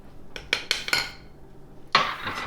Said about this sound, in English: Give her a quick stirring.